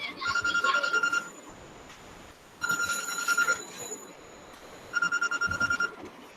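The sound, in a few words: phone ringtone from an incoming call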